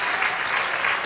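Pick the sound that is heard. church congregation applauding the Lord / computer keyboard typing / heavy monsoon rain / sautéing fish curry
church congregation applauding the Lord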